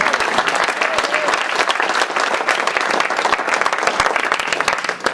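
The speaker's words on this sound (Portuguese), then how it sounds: "Você pode aplaudir o Senhor." A church congregation applauding during a Sunday service, dense steady clapping filling the room for several seconds without a break.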